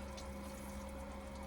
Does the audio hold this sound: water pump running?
yes